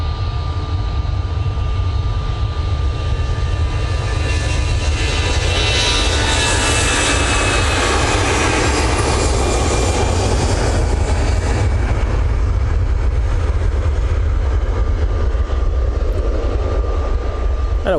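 An EasyJet jet airliner takes off at Manchester Airport, its engines building into a loud, sustained roar that swells through the middle and holds steady for the whole run.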